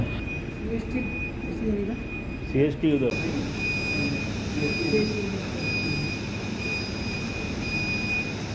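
A Mumbai Metro Line 3 train arrives at Kalbadevi underground station: a steady close rumble with a brief burst of wheel squeal and a high tonal whine, with a voice present.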